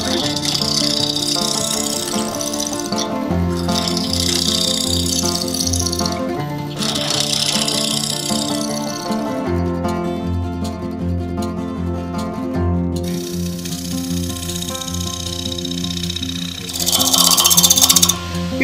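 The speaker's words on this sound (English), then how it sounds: "I have on the lathe a piece of American cherry." An EasyWood carbide tool cuts an American cherry bowl blank spinning on a wood lathe, giving a loud steady machine hum with a rhythmic low thrum and bursts of scraping, chattering cuts that swell near the end.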